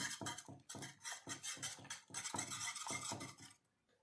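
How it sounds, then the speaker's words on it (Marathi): Cooked toor dal being stirred and mashed in a pot: quiet, regular bursts of scraping strokes in an even rhythm that stop abruptly near the end, with no voices. "इथे आपल्याला ही डाळ एक संघ करून घ्यायची"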